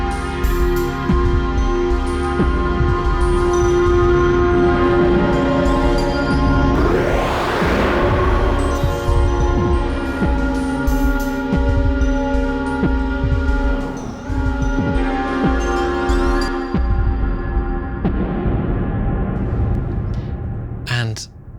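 A melodic sequence built in the Ableton Push 3 Melodic Sequencer mode plays as a dense, layered synth pattern with sustained tones and a rising swept effect midway, loud and continuous for about twenty seconds.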